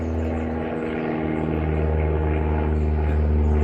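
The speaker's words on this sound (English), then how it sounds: "there's an airplane. Sorry if you can hear that." An airplane passes overhead, a steady low droning engine rumble that grows slightly louder over the few seconds, with no talking.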